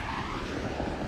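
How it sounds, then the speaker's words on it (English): A car passes along a street, its broadband road and engine noise steady and fairly close throughout, with no talk. "And here comes a car that's gonna meet me at the street."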